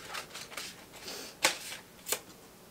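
Oracle cards are shuffled and drawn from a deck in soft, faint riffles and slides, with two sharper snaps of cards being pulled, close and quiet in an otherwise still room.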